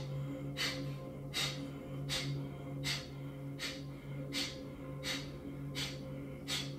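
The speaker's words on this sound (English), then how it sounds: "we're going to go for some breathing, using the mouth closed with the ah" Rhythmic exhalations during a yoga breathing exercise: about nine short, sharp breaths push out at an even pace, roughly two per second. They are fairly quiet and sit over a steady low background hum.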